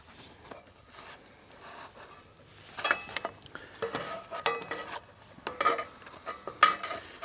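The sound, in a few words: jalapeño bacon grilled cheese cooking in a pan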